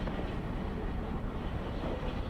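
A steady, rumbling train passes in the Train Simulator video game, with continuous low clatter and broad noise, fairly loud and unchanging throughout, with no voices.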